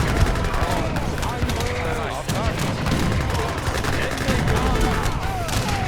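Cannon and musket fire in an Age of Empires 3 Napoleonic Era mod battle, a dense, continuous barrage of booms and volleys with talking over the top.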